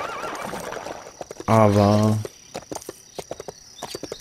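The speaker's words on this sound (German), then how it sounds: "Ach, nochmal ein Pferd." A horse in the Lego City Undercover video game gives one loud, clear whinny partway through, alongside a scatter of clip-clopping hooves, with someone talking over the game sounds before and after.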